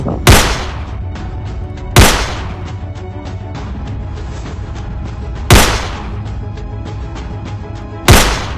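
Four loud, sharp gunshots ring out at irregular intervals over a steady dramatic background score, part of a police chase in a Bengali CID crime drama.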